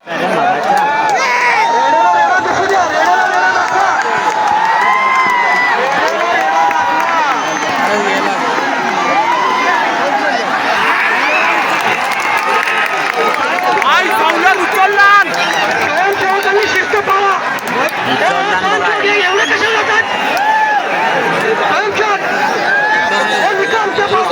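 A large outdoor village crowd gathered at a buffalo fight, a constant loud hubbub of shouting, cheering and chatter with children's cries, running unbroken from start to finish.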